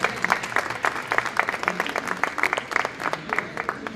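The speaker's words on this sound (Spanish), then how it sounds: "Por favor, aplausos." Audience at a technology and innovation conference talk applauding steadily, a moderate round of clapping with distinct individual claps, heard alone without speech.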